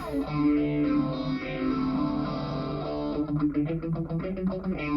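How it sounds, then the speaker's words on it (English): Electric guitar played through the phaser of a LEKATO multi-effects pedal, its tone sweeping and swirling, sustained chords giving way to quicker picked notes, loud and close. "Got a phaser."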